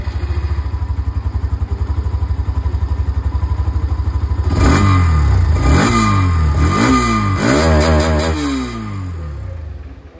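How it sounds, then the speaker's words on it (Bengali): A motorcycle of about 160 cc in the Indian market idles loud and close with a steady exhaust thump, then revs up in several rising bursts before settling back. "তবে এক্সস্ট সাউন্ডটা আপনাদেরকে শুনিয়ে দিয়েছি।"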